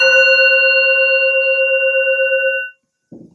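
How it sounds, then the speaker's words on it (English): A gong struck once in a meditation teaching setting rings out with a bright sustained tone that holds steady for over two seconds, then cuts off; a brief low sound follows after a pause. "I hit this gong,"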